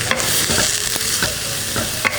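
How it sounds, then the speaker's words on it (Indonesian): Garlic, onion and carrot stir-fry in a non-stick Tefal Sauce Chef pan: a constant close sizzle with a few sharp utensil scrapes and taps as the vegetables are stirred, and no voices. "Ini aku akan tumis bawang putihnya sedikit."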